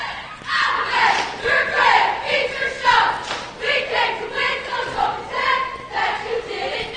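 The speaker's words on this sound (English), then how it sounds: "You can see the Musselman High School cheerleaders cheering them on." High school cheerleaders cheer at a basketball game, a loud continuous wash of crowd shouting and cheering voices with rhythmic swells throughout.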